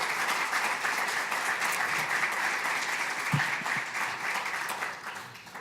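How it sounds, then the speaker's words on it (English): An audience at a Press Club Dallas panel event applauds the panelists, sustained clapping from a full room that holds steady for several seconds and then tapers off near the end. "Please give our panelists a round of applause."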